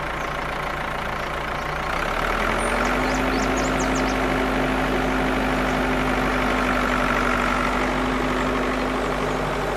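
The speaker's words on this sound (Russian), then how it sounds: "Затем трактор равняет насыпи своим ковшом" A cartoon tractor's engine runs steadily while it levels embankments with its bucket, a continuous loud, close mechanical drone with a low hum that holds throughout, without talk.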